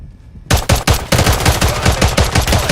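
Rapid automatic gunfire from a Warzone video game match starts abruptly after a short quiet moment and continues as dense, loud, close bursts of shots that keep going to the end.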